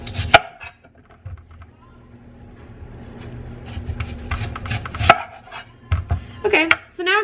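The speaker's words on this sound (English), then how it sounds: "so I'm gonna keep on slicing" Knife slicing through a rutabaga that is about to go bad, with close, irregular chopping thuds and scraping strokes on a cutting board, some louder bursts near the end.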